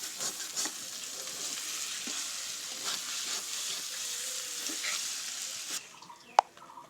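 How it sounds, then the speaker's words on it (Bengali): A banana flower bhaji fries in a pan with a continuous close sizzle and light stirring scrapes. The sizzle thins toward the end, and a single sharp clack follows. "লাল লাল করে কি সুন্দর করে ভাজি নিচ্ছি"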